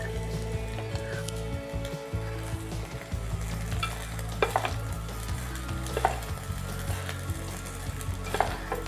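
Fried rice with fried cashews stirred in a pan over low flame, a steady close sizzle of frying with occasional scraping strokes of the spatula, continuous and fairly loud, with no talk.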